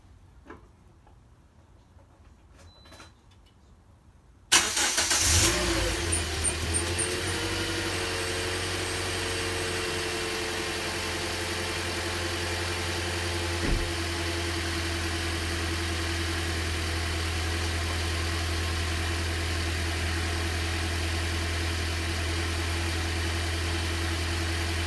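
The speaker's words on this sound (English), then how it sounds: "I'm gonna turn on the car and see if it moves or not" A Toyota Corolla engine cranks and catches after a few quiet seconds, then settles into a steady, even idle hum that runs on alone with a faint clunk midway.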